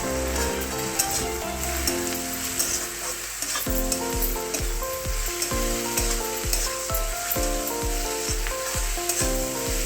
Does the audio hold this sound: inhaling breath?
no